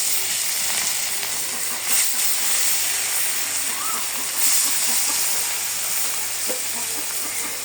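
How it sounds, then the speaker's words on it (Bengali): Fish frying in hot oil in a wok in a village kitchen, a continuous loud hissing sizzle with occasional spatter pops throughout. "এখন আমি মাছ ভাজি করবো, ওর জন্য কড়াইতে তেল দিয়ে দিই।"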